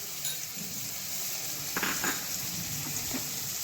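Asafoetida, fennel, garlic and chilli-ginger paste sizzle steadily in hot oil over low heat, a soft continuous frying hiss with a few light clinks of a stirring utensil against the pan.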